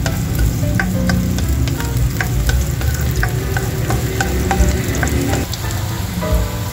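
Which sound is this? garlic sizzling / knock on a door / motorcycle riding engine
garlic sizzling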